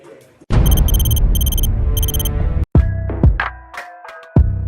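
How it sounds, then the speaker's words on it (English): A loud, harsh Brazilian jiu-jitsu match timer buzzer blares for about two seconds, stops abruptly, then a few sharp thuds and clatters follow. "the buzzer goes off."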